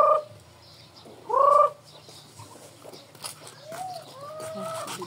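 Native chickens being fed overripe watermelon at a rural yard: a couple of loud, close clucks or squawks, then softer rising calls and faint pecking under a quiet background, with no speech.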